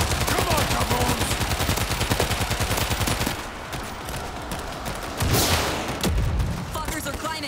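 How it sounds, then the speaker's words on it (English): Rapid automatic gunfire from a co-op World War Z zombie shooter game, a dense continuous rattle of shots for about three seconds, then sparser bursts and bangs with a sudden loud blast midway. "I'm ready to just fucking open fire."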